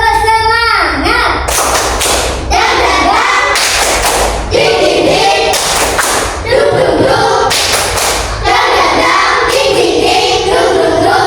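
Children in a classroom perform a rhythmic clapping cheer, a quick patterned series of loud claps and slaps repeating in bursts across the whole stretch, with young voices chanting along.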